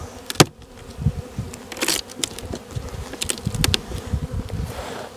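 Honeybees buzzing loudly after a beehive in an apiary is bumped, a dense steady drone with sharp close passes of individual bees and a few handling knocks.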